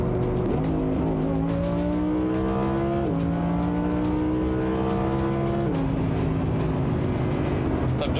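A car engine climbs steadily in pitch as the vehicle accelerates hard, shifting up through gears in distinct stepped rises, loud and close as if heard from inside.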